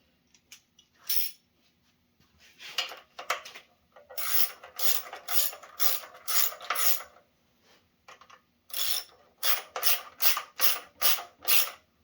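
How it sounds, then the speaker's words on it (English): Metallic ratcheting and clicking from a wrench run around the bolts of a transmission oil pan, coming in several quick rhythmic bursts separated by short pauses, close and fairly loud with no talking. "I'll go around and feed them all with a wrench"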